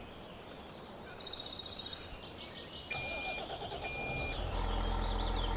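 Tractor in a farming video game pulls away and drives on, its engine rumble building to a steady low drone, with chirping birds in the background.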